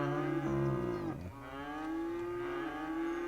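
Cattle on a farm in Cities: Skylines moo loudly in two long, drawn-out calls, one running into the next with no voices over them.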